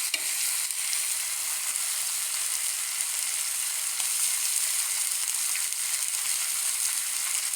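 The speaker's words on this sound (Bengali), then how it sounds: "এভাবে করেই আমি গ্রিল চিকেন রান্না করি।" Grill chicken sizzles and fries steadily in hot oil, a dense continuous crackling hiss heard up close without any voices.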